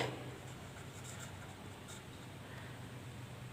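Marker or chalk scratching steadily on a classroom board during an accounting lesson on partnership firms, a quiet continuous scraping with no talk over it.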